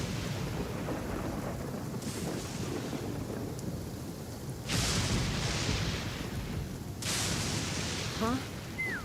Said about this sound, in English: We're really gonna go flying in this weather? Think we can outrun a lightning strike?